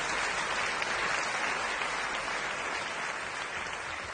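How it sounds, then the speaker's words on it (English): Dense, even applause from an event audience, a steady wash of many hands clapping at moderate distance for the full few seconds with no talk. "Big round of applause for that."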